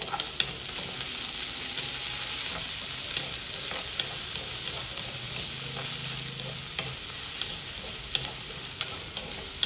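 Green chili, onion and mustard seeds sautéing in a pan for Indori poha, a steady close sizzle with faint scraping stirs and small pops throughout.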